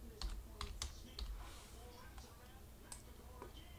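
Keys clack on a computer keyboard in a few sharp, close taps, spaced irregularly, with a person talking quietly underneath.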